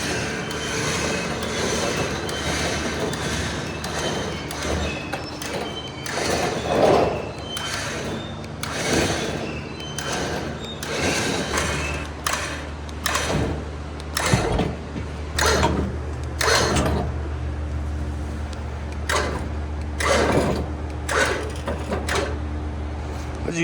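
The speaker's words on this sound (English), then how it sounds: "I just use my big winch and kind of suck it in, and it goes right into place." A big winch on a Suzuki Samurai reels a homemade snow plow into its mount, giving a steady mechanical grinding whir with creaks and clunks, close and fairly loud throughout.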